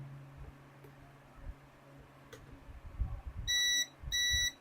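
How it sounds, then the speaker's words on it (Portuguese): A multimeter on its continuity setting gives two sharp electronic beeps near the end, each about half a second long, after some soft handling clicks and a low hum. "Aqui ele dá o avisozinho sonoro, né? Quando dá a continuidade"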